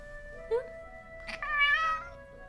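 A cat meows twice nearby, a short rising mew followed by a longer, drawn-out meow, over a faint steady hum.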